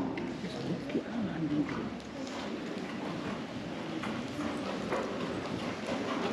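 Horse hooves trotting at working pace in a dressage arena at a competition, a steady rhythmic clip-clop under continuous background noise, with faint voices.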